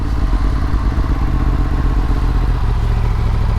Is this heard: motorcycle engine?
yes